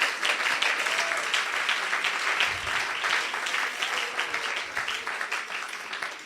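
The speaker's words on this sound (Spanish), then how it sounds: "Dale ese aplauso al Señor" A church congregation applauding, a dense continuous wash of clapping from many hands that holds steady throughout, moderately distant with a roomy feel.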